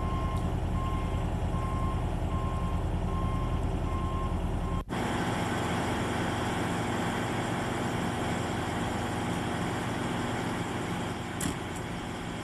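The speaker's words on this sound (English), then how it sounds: "The assistant operator then signals the operator to back up slowly to align the fifth wheel and steering wedge with the kingpin." An M1070 military truck backing up slowly, its reversing alarm beeping in an even rhythm over the loud idling diesel engine, then the beeps stop while the engine keeps running.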